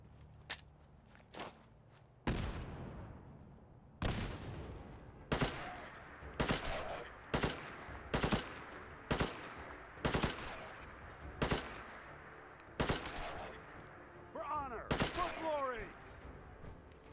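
Powerful lever-action rifle fired in Fallout 4 in a graveyard, about a dozen loud, sharp single shots spaced roughly a second or so apart, each with a booming tail, alone without talk.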